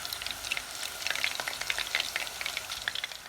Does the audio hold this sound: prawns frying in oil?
yes